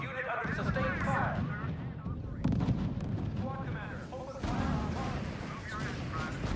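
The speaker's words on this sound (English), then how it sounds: "Unit under sustained fire." Gunfire and artillery in the R.U.S.E. strategy game on Xbox 360, a continuous rumbling barrage of booms and shots under radio-style unit voices reporting in.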